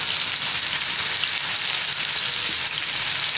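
Drumstick chicken fries in a pan over a low to medium flame, giving a loud, continuous, dense sizzle close up with no one talking.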